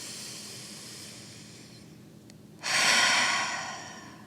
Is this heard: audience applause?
no